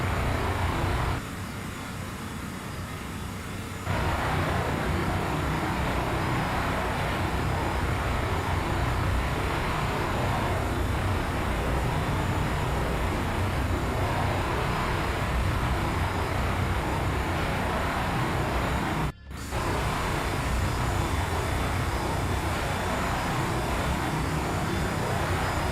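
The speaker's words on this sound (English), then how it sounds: "Alright, let's see what this helicopter's all about." Helicopter in the naval warfare game Sea Power, a steady continuous rotor and engine drone held at an even level for about twenty-five seconds, with one brief dropout near the end.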